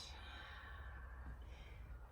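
A long, soft exhale during a qigong exercise, a close breathy sigh that fades away, followed by a faint second breath, with no speech.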